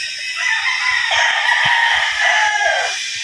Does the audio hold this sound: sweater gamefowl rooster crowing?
yes